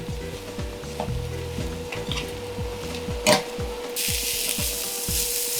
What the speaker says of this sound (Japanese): 中火から弱火ぐらいで炒めてまいります